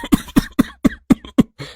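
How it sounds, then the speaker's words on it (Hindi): Heavy, repeated coughing from a person indoors, seven harsh close coughs in quick succession with short gaps, loud and alone. "खांसी की आवाज से पूरा घर परेशान हो जाता है"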